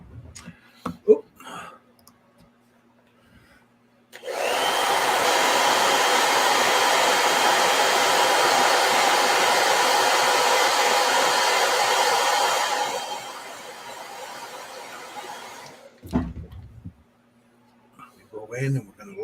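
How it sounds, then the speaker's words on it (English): A handheld blow dryer roars on loudly and steadily for about eight seconds while drying paint on a figure's brim, then clicks off, with faint rustles and handling noises before and after. "let me hit this with a blow dryer."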